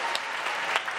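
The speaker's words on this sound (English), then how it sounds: "All right, well, one more round of applause." Audience applause at a women's luncheon, a steady wash of many hands clapping with no one speaking over it.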